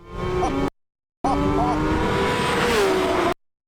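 Porsche 992 GT3, non-RS, driving on the Top Gear test track, with close engine roar and shifting tones in two loud bursts separated by brief silence, tires squealing near the end.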